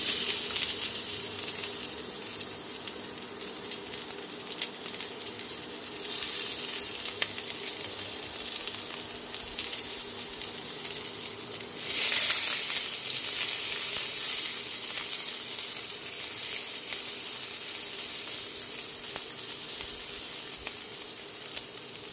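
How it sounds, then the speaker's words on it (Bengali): Chopped onions frying in a pan for aloo paratha, a steady loud sizzle running throughout with a brief surge of hissing partway through, no voices. "পেঁয়াজগুলোকে বাদামি করে ভেজে নিতে হবে।"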